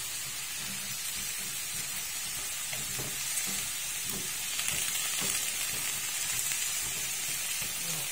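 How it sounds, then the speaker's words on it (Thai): Eggplant stir-fried with pork neck in a pan gives a steady, close sizzle with scattered scraping stirs and clicks of the utensil, heard alone without talk. "ลงไปนะคะมะเขือยาวจ้าแล้วก็ผัดลงไปนะจ๊ะ"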